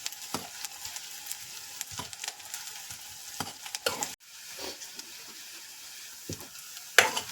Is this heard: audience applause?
no